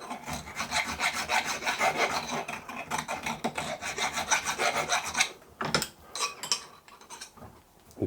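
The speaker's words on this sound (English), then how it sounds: "All the washer needs is the inside, very lightly filing, just to take the little edge off." Light strokes of a file rasp around the inside edge of a 3mm plasma-cut copper washer, close and steady in a quick rhythm, then slowing to a few separate scrapes.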